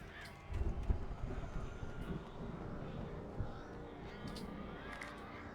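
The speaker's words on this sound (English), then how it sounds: "And hear birds" Crows caw a few times in the dark woods of the video game Alan Wake, over a low droning ambience with scattered thumps. The calls are moderately close.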